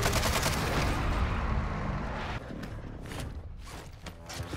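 Video game gunfire: a loud, sustained burst of rapid automatic shots that thins out into scattered, sharper shots toward the end.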